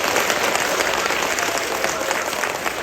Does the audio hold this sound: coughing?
no